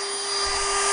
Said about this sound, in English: using a Dremel tool, my handy dandy dentist drill